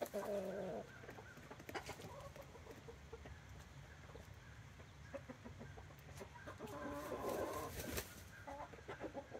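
Chickens, including white hens and a rooster, clucking and calling close by in a quiet yard, with repeated short squawks and soft murmuring clucks across the whole stretch.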